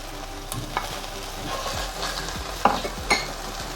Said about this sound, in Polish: na taką rozgrzaną patelnię dodaję masło